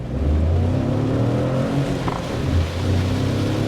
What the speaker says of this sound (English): Check out the acceleration one more time, slotting it in first gear in 3, 2, 1.